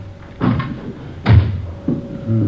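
Door sound effect from a radio drama, a few muffled wooden thumps and knocks close by, like a door being opened and bumped, with no talk.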